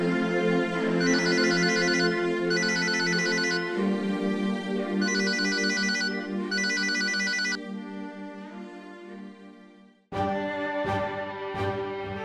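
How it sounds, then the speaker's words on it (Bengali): A mobile phone ringtone plays a looping electronic melody for several seconds, fades, then starts again more sharply, clear and close with no voices. "তোরে কে ফোন দিতেছে?"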